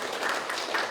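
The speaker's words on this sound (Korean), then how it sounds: "박수 한번 주시겠습니까?" Audience clapping at a talk concert, a steady dense patter of many hands filling the whole short moment at moderate level with no talk over it.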